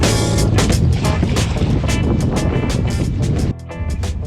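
Steady, loud wind roars across the microphone over Lake Oneida during a bass fishing tournament, a constant rushing blast with a brief dip in force near the end.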